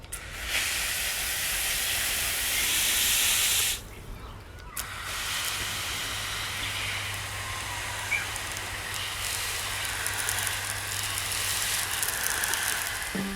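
A potted trumpet bush is sprayed with water, giving a steady loud hiss of spray close by. The spray cuts out briefly, then resumes as a long continuous rush.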